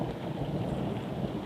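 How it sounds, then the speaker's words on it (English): Steady rain hisses with a deep rolling rumble of thunder running underneath, continuous and fairly distant. "Now, thunder is coming, the rain is here."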